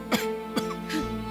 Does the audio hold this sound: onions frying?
no